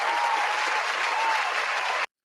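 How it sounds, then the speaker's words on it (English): Applause from an audience at a crypto-focused talk, a dense steady wash of hand clapping heard for about two seconds before it cuts off abruptly. "one more hand clap for that"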